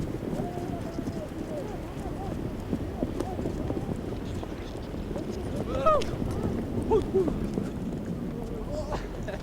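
A semi-wild herd of horses gallops across the steppe, hooves drumming in a loose, rolling clatter at middle distance, with wind in the background and someone narrating over it.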